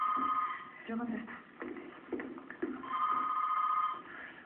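A telephone rings in a Spanish-language drama scene, heard as a muffled, band-limited tonal ring at the start and again later, with talking and shuffling in between.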